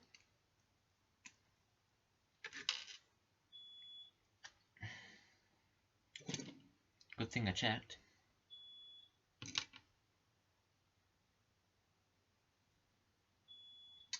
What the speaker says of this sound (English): That's the fire panel beeping in the background,